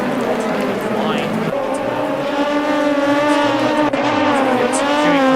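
Race cars lap the Suzuka circuit in a video game race, with a steady, loud engine drone and shifting pitch as cars run close together, all under continuous commentary from a voice.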